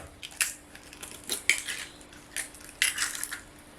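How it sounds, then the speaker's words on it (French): Eggs whisked against a plate with a fork: a run of quick, light clinks and scrapes in irregular bursts, fairly close and moderately quiet, with no speech. "il vous faut une autre assiette pour mettre les œufs qu'on va battre"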